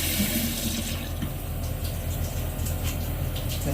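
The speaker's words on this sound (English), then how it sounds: "Turn the cold water on." Cold water runs steadily from a tap, a continuous close rushing splash with no pauses.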